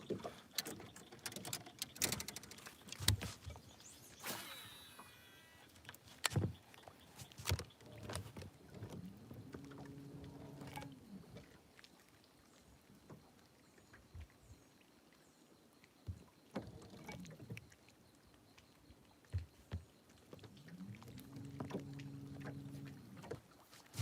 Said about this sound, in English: You guys can hear all that splashing, right?